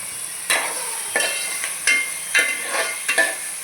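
Tomatoes frying in a hot pan for a ram's head curry: a steady sizzle underneath and a spatula scraping and stirring in regular strokes about every half second, close and clear, with no voices.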